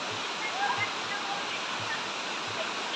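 Steady broadband rush of the Lipadas River in Toril, Davao City, running over rocks, continuous and fairly loud, with faint low thumps and murmuring voices of a crowd underneath.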